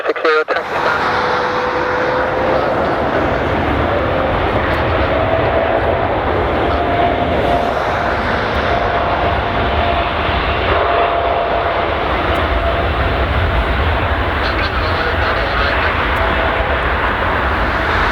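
British Airways Boeing 787-8 jet taking off from runway 25 at Newcastle Airport, a loud steady engine roar holding throughout with a faint rising whine, close and continuous, with radio-like talk faintly underneath.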